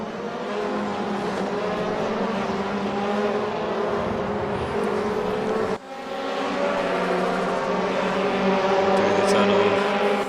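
Front-wheel-drive car in a racing video game, its engine droning steadily with shifting harmonics as it drives through a tunnel, a brief dip midway before the revs climb again, with someone talking over it.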